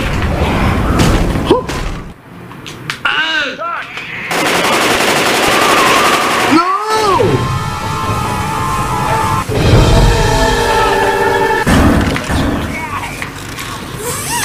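Bursts of automatic gunfire and impact thuds from the zombie shooter Left 4 Dead 2, rattling in clusters across the scene with loud in-game effects, while a voice speaks over the action.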